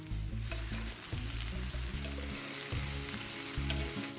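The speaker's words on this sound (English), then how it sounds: "start frying the thyme and garlic in the butter to release their beautiful flavors" Thyme and garlic fry in butter in a pan, giving a steady, close sizzle with loud crackling and spitting throughout and some low clattering bursts underneath.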